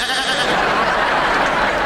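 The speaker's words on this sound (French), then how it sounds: "Hank, on est des chèvres" A goat bleats in a continuous wavering cry, loud and close, filling the short moment on its own.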